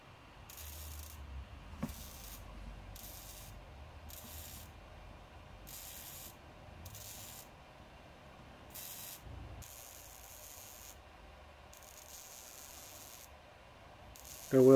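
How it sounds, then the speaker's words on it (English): A Flowmaster exhaust on a Chevy 5.3 is welded in repeated short bursts of buzzing hiss about a second apart, moderately close, with a sharp thump at the end. "And now they're welding it, so."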